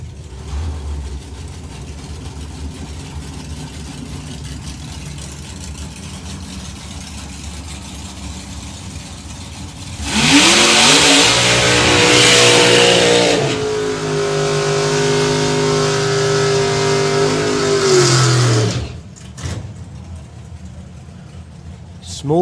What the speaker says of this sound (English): Small burn-up from Clement Devois then, didn't even cross over the line